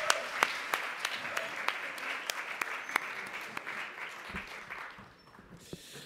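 Audience applause for a band at a Sunday evening evangelistic event, a steady patter of clapping from a crowd that thins out and fades toward the end.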